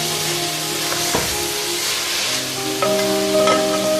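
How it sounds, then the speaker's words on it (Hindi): Carrot halwa roasting in a pan gives off a steady, even sizzling hiss, with faint tonal sounds in the background and a soft knock or two partway through. "ये देखिए हलवा अच्छी तरह से भून चुका है।"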